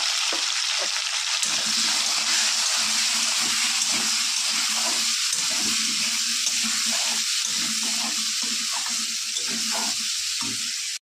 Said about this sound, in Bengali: কড়াইতে তেল দিয়ে দিলাম, এখন আলুগুলো ভেজে নেব।